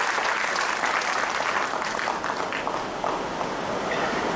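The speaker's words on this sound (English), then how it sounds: "I think we can have a bigger round of applause for him" A big round of applause from a lecture audience at a leadership lecture series event, steady full-room clapping sustained at a strong level throughout with faint voices underneath.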